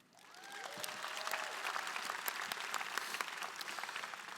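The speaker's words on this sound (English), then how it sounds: "Round of applause to you." Applause from a community audience at a 2016 presidential election forum, building from a quiet start into steady, dense clapping that fills the room, with a brief faint tone sliding over the first second.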